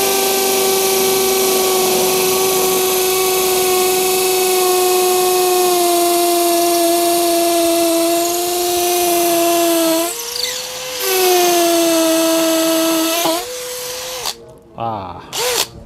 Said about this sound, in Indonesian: kita akan coba di pengeboran paving block ya, seperti itu. Modenya adalah hammer.